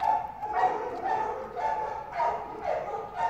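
A young male dog, one year old and medium-sized, gives a steady series of short yips and barks, roughly two per second, moderately close over a soft background.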